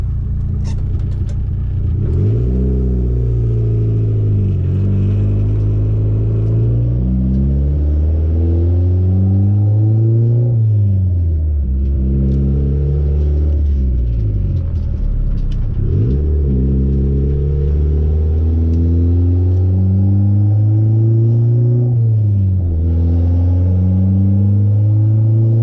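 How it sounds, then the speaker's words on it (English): Honda engine managed by a Hondata S300, revved at wide open throttle during tuning pulls: a loud, close, continuous roar that climbs in pitch, drops back, and climbs again in several repeated sweeps. "at wide open throttle. So we'll just go ahead and start recording right now, and we can go do a pull."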